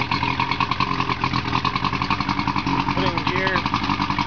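A 1986 Evinrude VRO 70hp outboard motor, kept in fresh water and in mint condition, idles with a steady, loud, pulsing mechanical drone that stays close and constant throughout.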